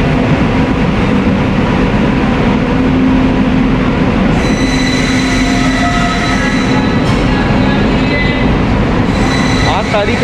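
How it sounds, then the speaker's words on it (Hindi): Porbandar–Howrah Express hauled by a WP7 locomotive at Nagpur railway station, a loud continuous rumble of rolling stock with a steady low hum and faint squeals and clatter, no voices. "पोरबंदर हावड़ा एक्सप्रेस में गाजियाबाद का WP7 लोकोमोटिव लगा हुआ है"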